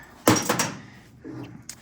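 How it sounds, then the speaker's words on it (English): A VW Bug door swings open with its welded door bar, giving a sharp metallic clunk followed by a rattling creak and a lighter knock, close by with no voices. "the actual door bar swings out. So that'll swing out with the door."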